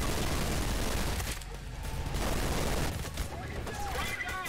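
Gunfire in the video game Trepang 2, dense rapid bursts of shots crackling over a busy combat soundscape, with a short lull midway before shooting resumes.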